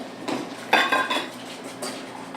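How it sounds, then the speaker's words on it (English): Whisking in a small bowl at a school cooking demonstration brings a quick run of metal-on-bowl clatter and scraping, loudest in one burst partway through, with no talk over it. "Whisk, like you mean it."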